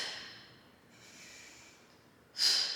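A person doing a core crunch exercise breathes audibly and close to the microphone, with a soft airy exhale and then a sharp, louder inhale through the nose, with no speech.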